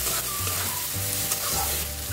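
Ground spices are stirred into softened onion and tomato frying in a pan, a close, continuous sizzle with rhythmic scraping of a spoon and a faint low hum beneath, no talking.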